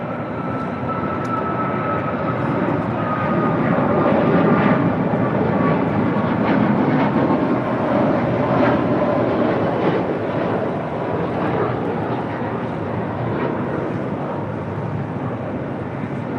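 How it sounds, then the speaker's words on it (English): An Air Canada Boeing 737 MAX 8 departs on a flight to Montreal, its steady, loud jet engine roar filling the whole stretch without a break and holding level throughout. "That is Air Canada 778 departing to Montreal on a MAX 8."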